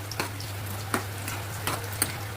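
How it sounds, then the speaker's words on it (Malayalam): Cucumber and banana are mashed in a pot with soft, irregular squelching presses and faint taps, quiet against a steady low electrical hum. "നമ്മുടെ വെള്ളരിക്കായും അതുപോലെ തന്നെ പഴവും നല്ലോണം ഉടച്ചു കൊടുക്കാം"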